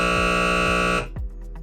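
High water float alarm at a city pump station, a loud continuous electronic buzzing tone that cuts off after about a second, followed by faint clatter.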